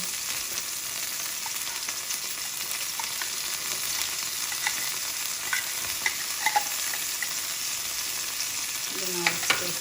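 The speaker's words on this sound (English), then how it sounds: "Then I'll stir fry." Indomie instant noodles with tuna stir-fried in a pan, a steady close sizzle with scattered clinks and scrapes of stirring running throughout, no talking.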